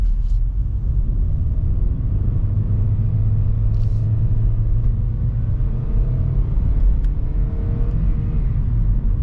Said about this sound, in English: I'll just put it in slot and put it in one and hear the engine.